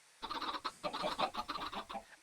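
Chickens in the video game Elfland cluck in a quick run of short, close calls lasting about two seconds, with no other sound around them.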